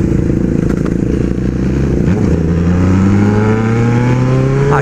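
A Honda Hornet motorcycle accelerates hard on asphalt during an informal street race, its engine rising in pitch through the gears, loud and close, with no talking.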